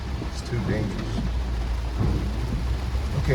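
Heavy rain pours in Brickell, Miami, a constant loud hiss with low rumbling thunder rolling beneath it, while someone speaks faintly over the downpour.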